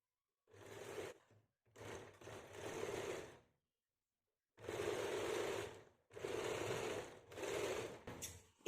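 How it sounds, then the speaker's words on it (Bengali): A sewing machine runs a straight seam on a kameez in several distinct bursts of steady mechanical whirring separated by short silent pauses, close and clear with no voices. "এবার আমরা সোজা করে সেলাই করবো"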